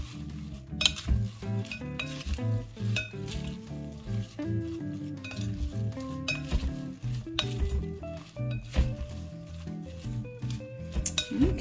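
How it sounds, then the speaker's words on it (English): Salad with parsley is tossed in a bowl, giving irregular utensil clinks, scrapes and stirring noises over steady background music, with no talk. "let's go ahead and just mix this salad"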